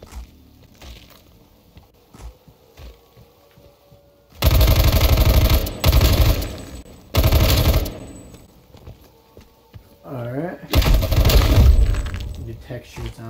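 Bursts of rapid automatic gunfire rip through a zombie fight in Black Ops Cold War, several loud sustained volleys separated by short pauses, with quieter game sounds and a brief voice in between.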